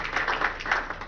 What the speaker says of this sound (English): Round of applause for number 4.